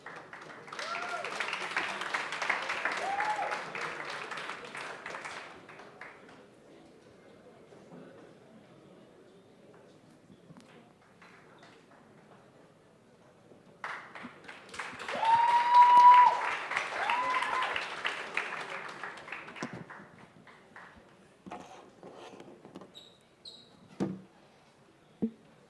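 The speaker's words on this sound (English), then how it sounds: "Is that how you clap? Please do more." Keynote audience at the OSCA 2022 Open Source Community Africa conference applauding in two bursts, a moderate stretch of clapping and cheering early on and a louder swell near the middle, with quieter room noise between and after.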